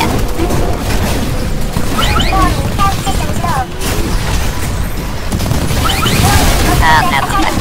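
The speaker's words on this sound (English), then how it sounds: "this is the nuclear explosion" A nuclear explosion in the video game Titanfall booms and rumbles loudly over about eight seconds, with crackling blasts and gunfire mixed in while a player talks over the sound.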